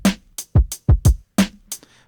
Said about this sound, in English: this first drum beat sounds like this